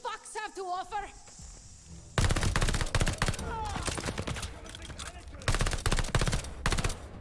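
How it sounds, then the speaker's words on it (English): Rapid gunfire bursts from a first-person shooter game, Call of Duty: Vanguard, loud and dense in two long volleys, with someone talking briefly before the shooting starts. "That shouldn't have taken me 3 shots."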